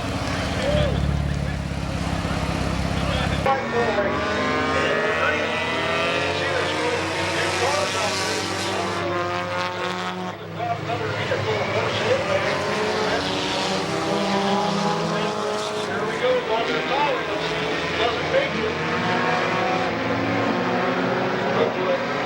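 Stock cars roar around Midvale Speedway, engines rising and falling in waves as the pack passes, loud and continuous under a race announcer's commentary over the PA.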